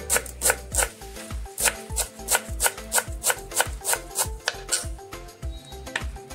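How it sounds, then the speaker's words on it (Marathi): A knife finely chopping a bunch of fresh coriander on a board, a quick run of sharp, regular taps close by with no talk. "कोथिंबीर बारीक कट करून झालेली आहे"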